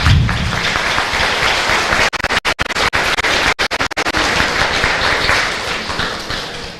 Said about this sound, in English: I'd like to have a round of applause for all the name arts that 5th grade